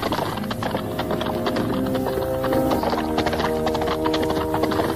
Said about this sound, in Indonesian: Dari kejauhan, seekor kuda melesat cepat dan kira-kira beberapa belas tombak darinya, kuda itu berhenti.